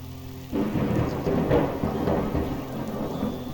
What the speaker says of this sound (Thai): พายุหนักเลย